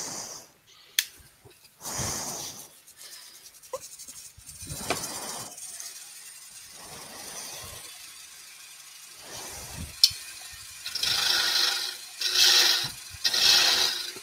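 A wooden pagoda box lid is cut with a turning tool on a lathe, with intermittent scraping and rasping passes separated by quiet gaps and some brighter, louder strokes toward the end.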